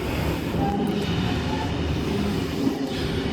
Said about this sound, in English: I'll film this very S-set depart and just about to arrive at Glenfield.